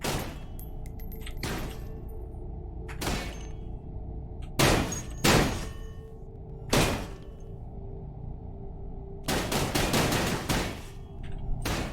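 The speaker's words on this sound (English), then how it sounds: "I'm just blowing out huge amounts of ammo for not real much benefit." Gunfire in the zombie survival game Cataclysm DDA, several loud sharp shots and quick bursts scattered over a low steady background hum, with no talking.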